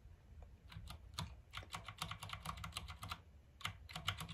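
Steady typing on a computer keyboard, a fast run of light clicking keystrokes with a brief pause near the end before a few more taps, close and fairly quiet, with no voices.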